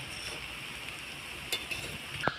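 Basanti pulao being stirred gently in a pan, a soft scraping swish with faint sizzling and a couple of light utensil clinks near the end, close and quiet with no talking.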